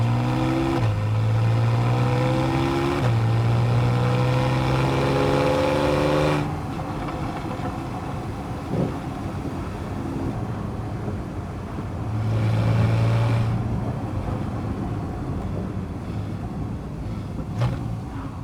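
A Porsche 911 Carrera GTS (991.1) with a naturally aspirated flat-six engine, droning steadily from inside the cabin with rising and falling revs, the engine tone holding through gear changes and a quieter stretch.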